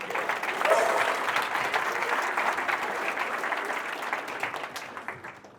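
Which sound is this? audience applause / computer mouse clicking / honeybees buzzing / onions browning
audience applause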